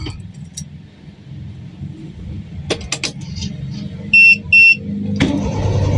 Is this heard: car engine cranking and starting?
yes